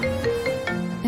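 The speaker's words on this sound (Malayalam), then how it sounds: "മാഡത്തിന്റെ ഫോൺ റിങ് ചെയ്യുന്നു." A mobile phone ringtone plays in a quiet room at night, a short melodic electronic phrase of a few repeating tones at moderate volume, with no talk over it.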